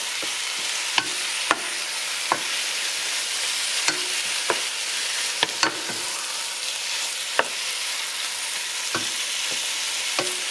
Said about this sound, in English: I'll just keep stirring that while I get my other spices ready.